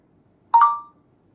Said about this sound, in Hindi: जैसे कि आप देख पा रहे हो अब मुझे आया है मैसेज